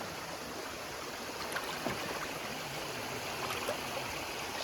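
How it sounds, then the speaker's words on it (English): Creek water flows steadily over gravel riffles, a continuous broadband rush and trickle close to the listener, with no voices over the constant wash. "The riffles are flowing"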